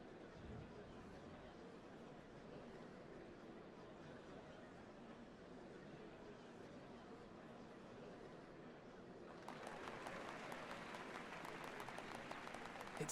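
A large crowd applauds steadily in Final Fantasy XIV Dawntrail at a ceremony for the changing of Dawn Servants, a dense wash of clapping that swells louder and brighter toward the end.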